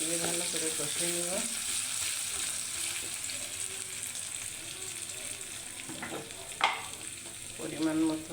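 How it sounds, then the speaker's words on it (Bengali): Rice fried with ginger-garlic paste and chopped onion sizzles steadily in the pan, with repeated stirring scrapes and clatters coming up toward the end. "আদা রসুন বাটা, পেঁয়াজ কুচি দিয়ে এগুলো দিয়ে ভালো করে কষিয়ে নেব"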